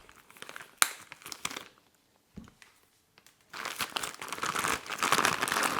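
Thick protective plastic packaging around a block of white fondant crinkles and crackles as it is handled and opened, with rustling bursts early, a brief quiet pause, then louder sustained crinkling close up.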